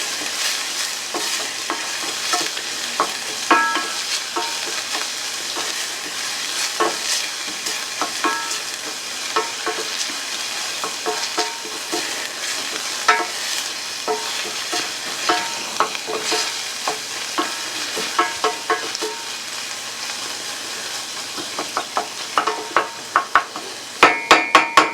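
Garlic and onions sauté in a pan, giving a constant close sizzle and frying hiss, with frequent stirring scrapes and light utensil knocks against the pan throughout.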